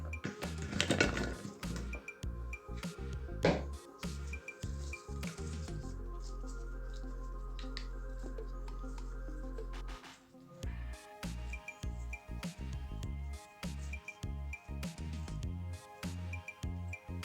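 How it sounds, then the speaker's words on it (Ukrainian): Raw potato slices laid by hand into a glass baking dish, a run of close, quiet clinks, taps and soft slaps as pieces land on glass and each other, with a low steady hum midway and no talking. "На дно нашої скляної форми викладаємо картоплю."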